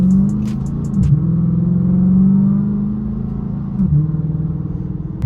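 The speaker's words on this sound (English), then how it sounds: "Hey, that car is coming." Car driving past on a road, an engine rumble that swells as it approaches, peaks near the middle and fades away, heard from the roadside with no talk.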